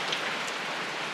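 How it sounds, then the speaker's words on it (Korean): A short stretch of steady rainfall at a mountaintop hermitage, raindrops pattering densely and evenly nearby. "지금 빗방울 떨어지는 소리"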